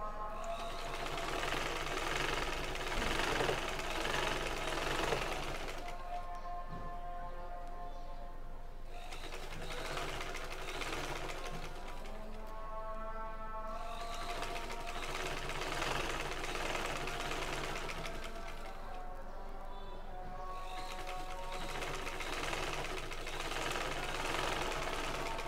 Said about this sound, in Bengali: এই সেলাইটা আমি ডাবল করে দিয়ে দিচ্ছি।